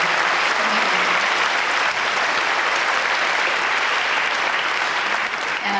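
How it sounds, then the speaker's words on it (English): Concert audience at a school intermediate concert applauding parents, steady dense clapping that fills the hall evenly and loudly from start to finish. "we'd like to applaud you"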